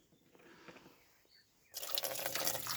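Faint drips give way to a sudden steady splash of water pouring into a container, loud and close, continuing to the end.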